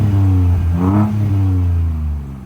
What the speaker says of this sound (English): And then the exhaust sounds amazing as well.